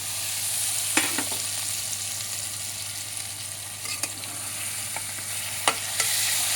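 Half a kilo of washed mutton fries in a pan of browned onion and masala, a constant loud sizzle with a few scattered sharp stirring taps, no voices.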